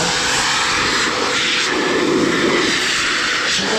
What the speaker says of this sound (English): a decent blower, all this will come off easily like that.